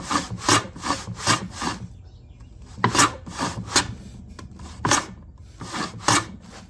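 A hand plane shoots the end of a wood joint on a shooting board, giving a series of rhythmic, rasping strokes, several quick passes, a pause, then more strokes, close and distinct with no talk.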